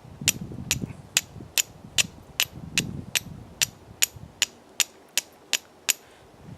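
Quartz struck against steel to throw sparks, a series of about fifteen sharp, bright clicks at a steady, quickening rhythm, close and fairly loud with little else around them.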